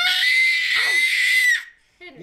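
A young boy lets out a sustained, loud, high-pitched scream for about a second and a half, deliberately making funny noises at a Christmas gathering; it cuts off abruptly and is followed by a brief, quieter vocal sound.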